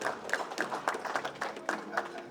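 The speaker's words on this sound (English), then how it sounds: "Round of applause for that." Applause from the audience at a Lions Club meeting in Washington DC: fairly faint, distant clapping from a modest crowd, running steadily with a voice talking over it.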